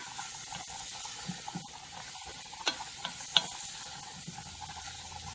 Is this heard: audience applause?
no